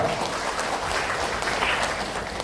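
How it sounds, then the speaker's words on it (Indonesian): Audience applause at a ceremony opening a disability sports building, a steady wash of clapping from a large crowd, moderately loud and continuous. "Tepuk tangan untuk mereka."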